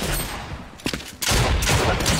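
Dragon Breath shotgun blasts in Apex Legends sound as a few heavy, close bursts of gunfire separated by a short gap, loud, with no talking over them.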